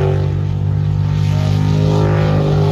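A racing jet boat's engine roars loud and close during a sprint race after the motor has blown and is burning oil, a continuous droning tone with steady pulsing throughout.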